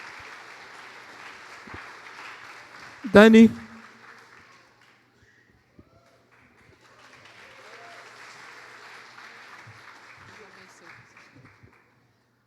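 A church congregation applauds during a New Year's Eve service, soft clapping that fades to near silence and later returns lightly, with a brief loud voice cutting in near the start.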